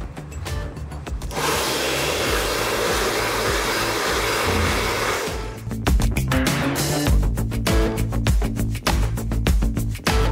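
Hair dryer blowing steadily at close range as hair is blow-dried in a home salon session, a continuous loud airy roar that breaks off briefly midway and returns with rhythmic fluttering as the nozzle moves.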